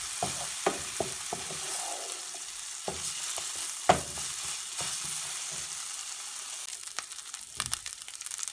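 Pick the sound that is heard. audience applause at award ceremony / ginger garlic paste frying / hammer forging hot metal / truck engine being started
ginger garlic paste frying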